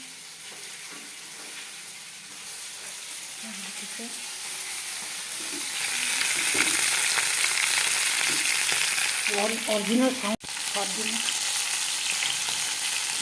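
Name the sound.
fish frying in a pan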